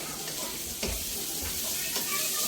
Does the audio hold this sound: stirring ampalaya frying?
yes